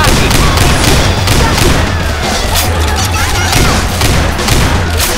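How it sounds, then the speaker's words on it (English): A Left 4 Dead 2 pipe bomb goes off amid loud, chaotic combat, with booming blasts and crackling gunfire piling into a dense, continuous roar close by. "Throwing a pipe bomb."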